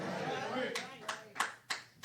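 Audience applause at a church gathering, a few scattered, sharp handclaps breaking out in an uneven rhythm as a voice talks over them.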